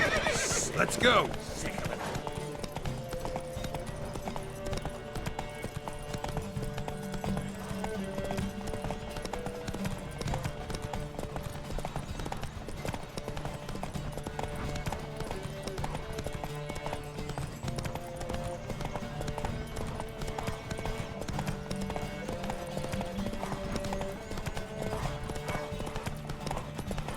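Horses gallop in a race in the video game The Witcher 3, with steady rhythmic hoofbeats under continuous game music, a neigh near the start, the whole scene fairly quiet.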